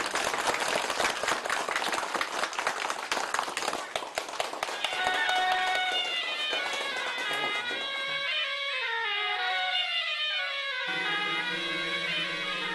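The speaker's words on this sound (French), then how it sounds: "得主黄曼龙，我们掌声鼓励" Crowd applause greets the winner of a village tea competition, dense claps and cheering filling the first half, then giving way to music and voices.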